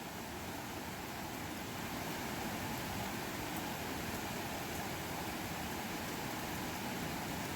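Rushing floodwater from a flash flood pours in a steady, dense roar that holds unchanged throughout, fairly faint and distant with no voices.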